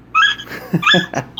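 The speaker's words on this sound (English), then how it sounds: "No, that's my dog Squeak Toy." A dog makes high, squeaky, bird-like whines and chirps in a few short bursts, close to the microphone, with breathy sounds in between.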